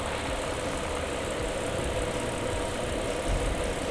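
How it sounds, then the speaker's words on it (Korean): A steady engine drone idles at close range, a constant low rumble with hiss above and no voices, from a Hyundai Grandeur IG 3.0 LPI with the hood open. "엔진 소리도 일정합니다"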